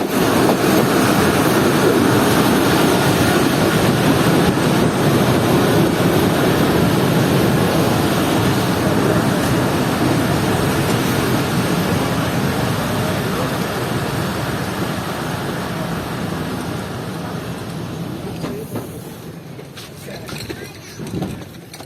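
The 11 Up Hazara Express at Shahdadpur railway station gives off a broad, loud rumble that slowly fades over about twenty seconds, ending with scattered clatter.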